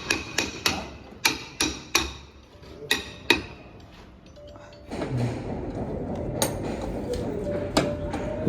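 A hammer strikes repeatedly, about ten sharp, close, ringing blows in an uneven rhythm for the first few seconds, then stops as a louder rustling background noise takes over.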